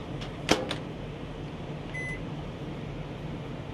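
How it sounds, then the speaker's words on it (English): A microwave oven heating a bag of food runs with a steady low hum and fan drone, a door or button click near the start and a short beep partway through. "you're going to stick the bag in the microwave for about 5 minutes"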